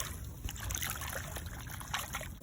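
Creek water trickles and sloshes in a steady, close, continuous babble with small splashy bursts, and no talking.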